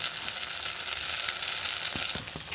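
Okra sizzles in hot oil in a pan with garlic paste, a steady dense crackle filling the whole stretch, with a few soft stirring knocks near the end.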